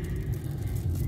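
Steady low rumble of vehicles stuck in a rain-soaked traffic jam in Blitar, continuous and fairly close with no voices.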